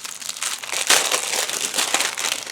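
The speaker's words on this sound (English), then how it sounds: "And pull out one of these shaker fronts." A shaker card front is pulled out of its plastic packaging with a loud, close crinkling that runs for a couple of seconds and peaks in a sharp rustle near the start.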